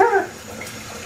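Water runs from a tap to wash freshly harvested, dirty rice in a kitchen, a brief steady splashing flow heard close up with a slightly louder gush at the start, no voices.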